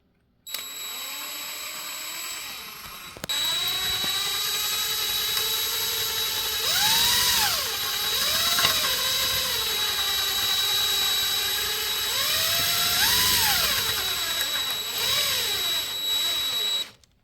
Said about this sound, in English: And drill those 6 holes.